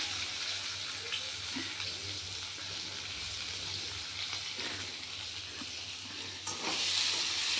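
Cumin, bay leaf and dry chilli temper in hot oil for a dal, giving a quiet, steady hiss of frying that swells louder near the end.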